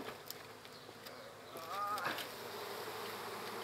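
Honey bees buzzing around a hive frame during a swarm catch, a soft steady hum with a brief louder buzz as one flies close by, no talk.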